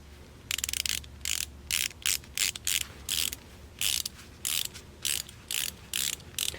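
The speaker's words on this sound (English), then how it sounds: "Listen closely to the ratchet mechanism." Wera compact ratcheting bit holder clicking as its ratchet mechanism is cycled, about a dozen short bursts of crisp rapid ticks in a steady rhythm, close and clear over quiet.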